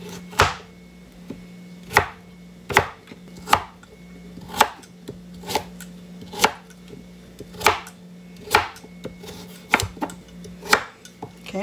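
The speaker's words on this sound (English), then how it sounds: "now we're going to cut these into 1-inch cubes" A knife chops peeled pumpkin into 1-inch cubes on a board, with about fifteen crisp, evenly spaced thuds at a steady, unhurried rhythm and no talking.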